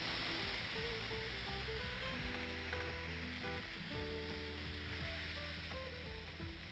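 Spice paste ground in a grinder hisses and sizzles loudly in hot oil in a pan for kadai paneer, a steady close crackle with bubbling pops.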